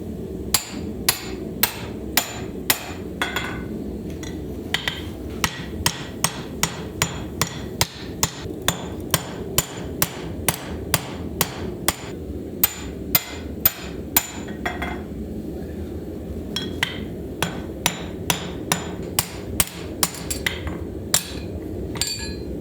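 Sharp, evenly spaced hammer blows ring out one after another, driving a drift into the eye of a hand-forged axe head, loud and close over a steady background hum.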